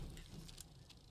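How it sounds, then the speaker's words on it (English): A faint, continuous crackling patter with light rattling ticks from carbon burning in the video game Astroneer, low in level and steady throughout. "Oh, it's the carbon burning."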